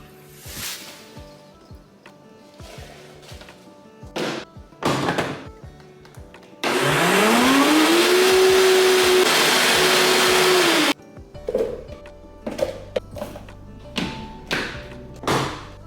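A blender whirs loudly through frozen peaches, pineapple, banana, spinach and milk for about four seconds, its motor pitch climbing and levelling off, with kitchen taps and thuds before and after.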